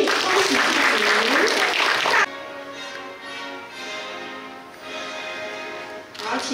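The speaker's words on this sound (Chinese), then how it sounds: "请大家掌声鼓励" An audience applauds at a school principal handover ceremony in Changhua County, a loud burst of crowd clapping for about two seconds that cuts to softer room sound with speaking voices.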